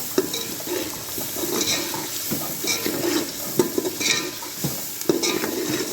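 Continuous sizzling with scraping and stirring noises as mustard greens saag is fried in ghee in a pot, irregular and close, with occasional clinks of a utensil.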